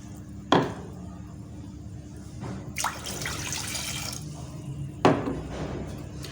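Two cups of water are poured into a pan to start Kashmiri pink chai, heard as a few short splashing bursts over a steady low kitchen hum.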